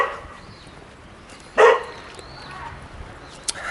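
A dog near a house on a rural trail in Japan lets out one sharp, loud bark, followed by a fainter yip a moment later, with quiet outdoor ambience around it.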